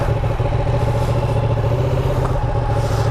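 A 2017 Ducati 959 Panigale sport motorcycle engine runs loud and close with a clunky, clattering rumble that holds steady at low speed, with no talking over it.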